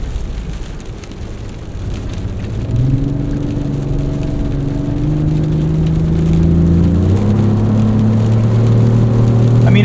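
2024 Lexus GX 550 Overtrail driving on a back road, with a steady engine hum and road rumble that climbs in pitch as the SUV accelerates through a gear change and keeps building, heard from inside with no talking.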